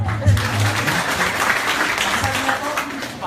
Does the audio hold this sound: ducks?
no